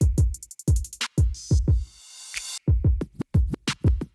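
Processed drum beat from Ableton Live, a busy punchy pattern of kicks, snares and crisp hi-hats with a noisy riser or sweep in the middle, loud, close and continuous.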